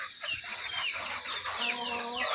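Native hens clucking in a backyard coop, several birds making soft repeated clucks and short calls over a steady background hum, fairly close with no talking.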